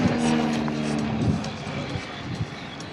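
A Pipistrel electric light aircraft with a fixed-pitch propeller flies figure-eight manoeuvres in the air. It makes a steady, moderately loud whirring drone with a tonal hum that shifts slightly as it turns, and no voices are heard.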